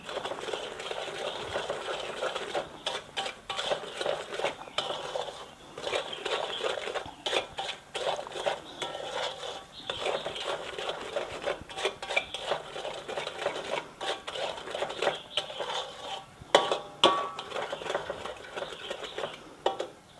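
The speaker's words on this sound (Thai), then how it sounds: "ส่วนของเราเราชอบจะผัดแบบนี้ เราจะได้กลิ่นน้ำตาลออกไหม้หน่อยๆหอม" Sago dumpling filling cooked with sugar being stir-fried in a pan, a steady busy scrape and clatter of spatula against metal with sizzling underneath, continuous and close throughout.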